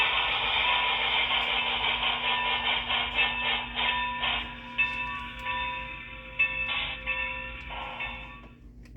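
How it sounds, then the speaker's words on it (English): A DCC Sound Proto 2000 model steam locomotive runs on track, giving a steady metallic mechanical hum with a sustained tone, irregular clicks and soft scraping, fairly close. "This locomotive right here is a DCC Sound Proto 2000 80. This thing runs incredible."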